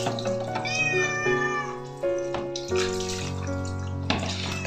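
A cat meows repeatedly while being bathed, long, loud wavering cries close by over running water from a tap.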